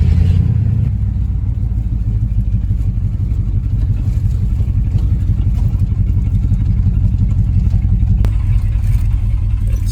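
A 1972 Ford F-100 bump side pickup with a C6 transmission drives along, its engine a loud, steady low rumble heard from inside the cab, with a brief click near the end.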